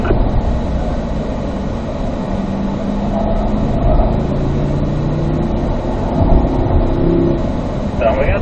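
A car's engine drones steadily as it accelerates on a race track, with rising engine tones climbing under the throttle. Someone talks over the engine almost the whole time.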